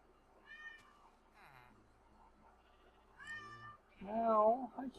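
A pet cat meows several times in short, separate calls, the last one louder and more drawn out, heard close against a quiet room.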